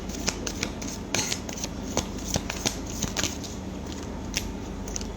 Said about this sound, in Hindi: बहुत सारे कार्ड्स निकल रहे हैं.